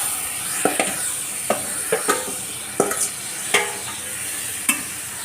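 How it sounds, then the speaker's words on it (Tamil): Cleaned prawns stirred in a hot pan with onion and tomato, a continuous sizzle of frying under sharp scraping knocks of the spoon against the pan at irregular intervals. "இதெல்லாம் ஒன்றா நல்லா கிண்டிடுவோம்"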